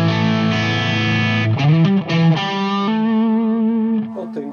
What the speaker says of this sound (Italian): con il primo booster lineare spinto non poco